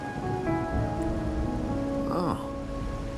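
Steady rain falls in the Wuthering Waves video game, a continuous even patter lasting throughout with faint soft tonal sounds above it.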